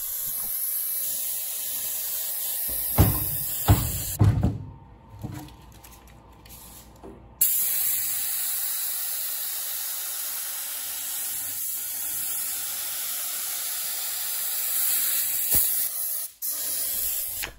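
Stabond contact cement being sprayed onto a Luon plywood panel: a loud, steady spray hiss runs almost throughout, broken by a short pause and a few brief knocks.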